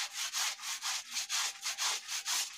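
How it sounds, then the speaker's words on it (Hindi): Clothes scrubbed by hand in a village home, a steady rhythmic rubbing with about nine even back-and-forth strokes, close and clear with no talking. "ये कपड़ा धुल रहा है"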